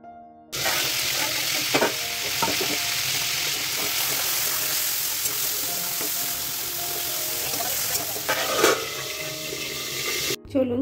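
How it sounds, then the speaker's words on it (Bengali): Chicken frying in a pan for chicken fried rice, a loud steady sizzle running continuously from just after the start with faint stirring clatter, then cutting off near the end. "চলুন চিকেনটা ভাজতে দিয়ে দিলাম।"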